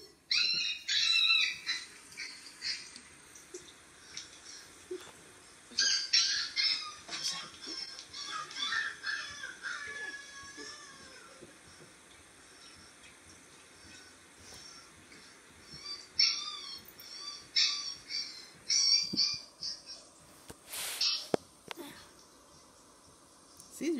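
A recording of huskies howling plays for a dog indoors, with long wavering high howls rising and falling over several stretches and quieter gaps between them. A person speaks at points alongside it.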